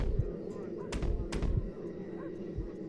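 Gunfire in Red Dead Redemption Remastered, shooting at a hat: two sharp, loud shots in quick succession over a busy game background with voices.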